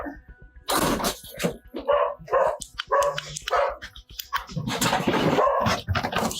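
A dog barks repeatedly in short, loud bursts nearby, a mix of sharp barks and higher yips in an uneven rhythm, with no one speaking over it.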